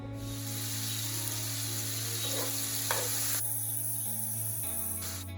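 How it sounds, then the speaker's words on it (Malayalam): Marinated prawns fry in hot oil in a pan, giving a loud, continuous hiss and crackle close by with a steady hum beneath it and no talking. "അങ്ങനെ പാന് ചൂടായി ഓയിൽ ഒഴിച്ച് കൊടുത്തിട്ട് നേരത്തെ മാരിനേറ്റ് ചെയ്ത് വെച്ചിട്ടുള്ള ചെമ്മീനൊന്ന് ഇട്ട് കൊടുത്തിട്ട്"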